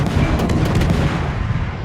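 Guns of the Japanese destroyer Harugumo fire in a naval video game, producing a dense burst of rapid booms over a heavy, continuous rumble.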